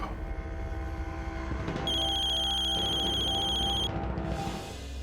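A telephone rings with a repeating electronic trill in a quiet interior, loud and steady for a couple of seconds over a low background hum, then it stops.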